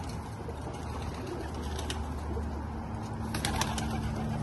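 Domestic racing pigeons from an old family line, moulting in a breeder's loft, give low soft coos and faint rustles, a steady murmuring bed of calls close by with no talk.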